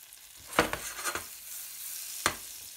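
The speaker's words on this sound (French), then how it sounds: "Dans ce beurre qui est en train de fondre, vous allez faire suer le reste de votre échalote." Shallot sweating in melting butter in a pan gives a soft, low sizzle with a few sharp stirring clatters near the start and one more later on.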